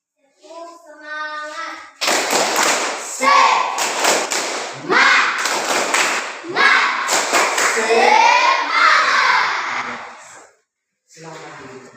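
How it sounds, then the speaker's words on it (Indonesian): A classroom stands and performs a rhythmic tepuk semangat spirit clap, loud group chanting punctuated by bursts of clapping, with a few quieter claps before the full class joins in. "Ayo tepuk semangat."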